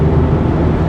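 A turbocharged SR20 car engine with a blocked blow-off valve gives a steady, loud, rough rumble with a fluttering texture, close up and without talk, lasting about a second.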